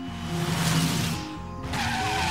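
A BMW 7 Series whips through a high-speed 180-degree stunt turn, its tires squealing loudly in a sustained, wavering screech that breaks off briefly before the engine and tire noise surge back.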